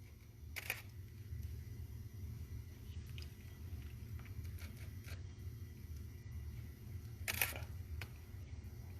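Camera shutter firing while photographing a hand, two sharp mechanical clicks about seven seconds apart over a low steady room hum, close and distinct.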